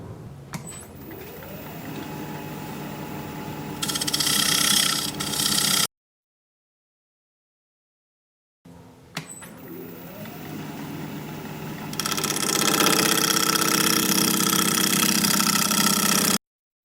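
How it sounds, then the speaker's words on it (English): A wood lathe spins an alder live-edge bowl while a point tool cuts a dovetail, giving a steady motor hum that turns into a louder, rougher scraping cut in two separate passes with a silent gap between them. "I use this point tool to make my dovetails usually."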